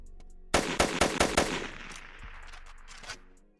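A rapid burst of about five loud gunshots from a gun in the Rec Room video game, followed by a fading, scattered tail and quiet after.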